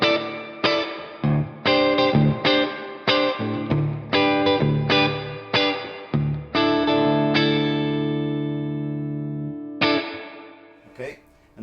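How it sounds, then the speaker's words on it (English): Guitar chords played through an Electro-Harmonix Canyon pedal on its reverb-only setting, each strum ringing out with a washy tail, ending in a long sustained chord that slowly decays. "on the Verb setting, you get just the reverb"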